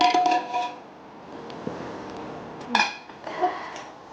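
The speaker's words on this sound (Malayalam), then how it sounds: "ഇനി നമുക്കൊന്ന് കുക്കർ തുറക്കാം." Lid of a pressure cooker, its weight already removed, clanks and clinks as it is opened in a kitchen while cooking rajma kheema curry, with a few sharp metallic knocks and a soft rattle.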